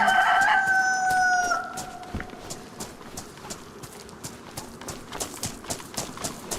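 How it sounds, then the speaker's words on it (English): A chicken on a beach in the video game DayZ lets out a drawn-out crowing call near the start. It is followed by a soft, irregular ticking and clopping patter that continues to the end. "Chicken on the beach."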